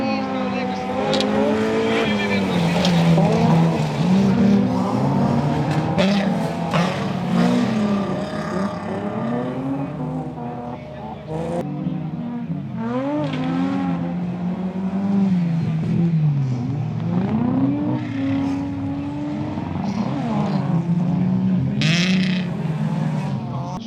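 4WD folk-race cars launch together on the Vecpils autotrack, engines revving hard and wavering over a steady loud roar, with tire squeal and a commentator talking over the whole race start.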